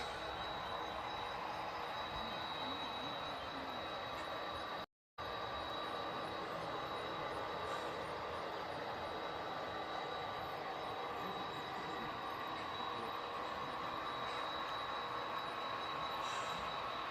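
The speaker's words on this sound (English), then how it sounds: "just follow the sound of trains" HO scale model trains run on a layout, producing a steady rolling rumble with a thin high metallic whine, continuous and moderately quiet, with one brief dropout.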